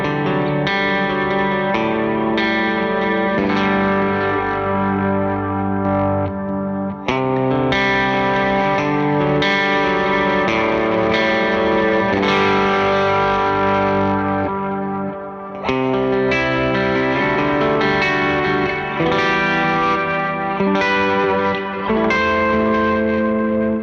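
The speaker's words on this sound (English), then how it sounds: "Smooth Cloud is just kind of the ultimate sort of smooth, generalized reverb" Sustained electric guitar chords washed in a smooth, lush Smooth Cloud reverb preset on a Mercury X pedal, notes blooming into a dense, continuous shimmering tail with no gaps, solo and fairly loud.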